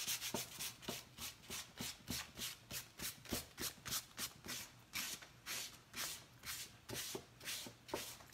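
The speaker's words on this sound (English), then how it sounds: "I'm just going to give it a light sanding, which is a wet sanding." Light wet sanding with sandpaper by hand, a steady back-and-forth rubbing in even strokes, soft, close and rhythmic, with no talking.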